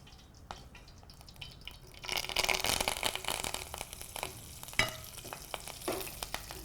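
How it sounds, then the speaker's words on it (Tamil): Curry leaves fry in hot oil for mushroom with sesame, a quiet bed of bubbling that swells into loud, crackling sizzle with sharp pops and spatters, close and with no voices. "கருவேப்பிலை நல்லா பொரியணும்."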